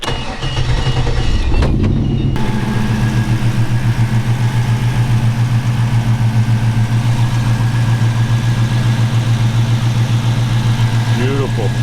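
A 1938 Ford Roadster with an LS3 V8 settles into a steady, close, loud idle after a brief start-up burst, holding an even low rumble throughout.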